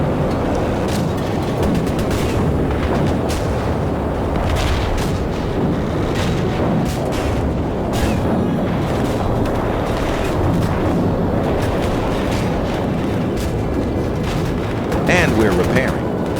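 Tank cannon fire striking a Churchill tank in a World War II armoured combat game, heard as repeated booms and impacts over a dense, constant rumble of battle noise, with someone talking over much of it.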